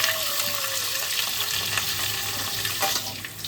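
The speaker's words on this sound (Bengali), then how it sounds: "এদিকে সবজিগুলো আমাদের প্রায় ভাজা হয়ে এসেছে।" A pan of mixed vegetables (drumsticks, potato, eggplant, green banana, papaya and radish) nearly done frying in oil makes a continuous close crackling sizzle, with occasional stirring scrapes and a slight fade toward the end.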